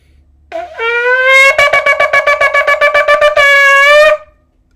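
A shofar gives a close, loud blast that opens with a rising tone, breaks into a rapid series of about a dozen short staccato pulses, then ends on a sustained note.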